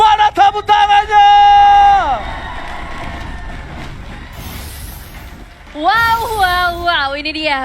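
Crowd cheering and shouting in a Mobile Legends esports arena, a loud surge of voices swelling after a caster's excited speech, with high whoops and youthful shouts over a busy arena din.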